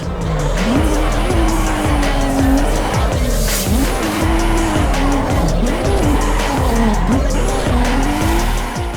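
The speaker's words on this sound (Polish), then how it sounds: "I ja zanim dodam gazu, muszę napompować te turbo." In the Assetto Corsa EVO racing game, a turbocharged car drifts around the Nordschleife. The loud engine revs up and down over and over, with continuous tire squeal and skidding noise throughout.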